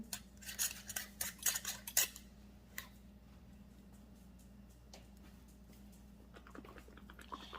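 Chia pudding ingredients with raspberries, blueberries and banana are mixed, with a burst of clinking and scraping for about two seconds, then quieter scattered taps and clicks.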